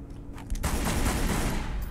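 Gunfire in Tomb Raider Legend, a sudden dense burst of rapid shots that starts partway in and keeps going loud to the end.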